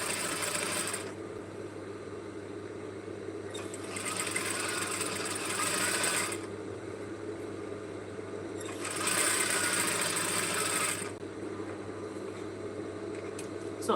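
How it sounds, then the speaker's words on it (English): A sewing machine top-stitches a simple A-line dress, running in bursts of steady whirring with brief pauses between seams, close and clear over a constant low hum. "I'm going to come and top stitch here."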